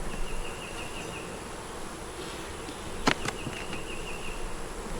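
Honey bees hum around an open hive during a brood box inspection, a quiet continuous buzz with a few louder passes close by and a sharp knock near the middle.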